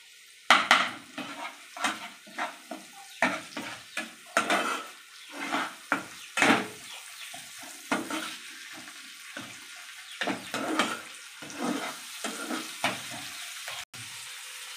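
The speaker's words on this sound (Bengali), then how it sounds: "এটা আদা রসুনের পেস্ট দিয়ে দিচ্ছি" Ginger-garlic paste hits a pan of cooking oil while a bhindi, potato and fish roe curry is made. Repeated metal clinks and scrapes of a spoon stirring against the pan sound over a soft sizzle, with a pulsing rhythm of strokes.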